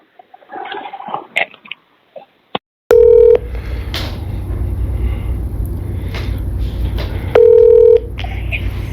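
Telephone call: a brief stretch of faint murmuring noise, then a sharp click, followed by a steady electronic ringback tone sounding twice several seconds apart over a constant low line hum, loud and close.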